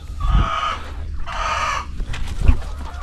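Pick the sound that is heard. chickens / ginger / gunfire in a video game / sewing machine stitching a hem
chickens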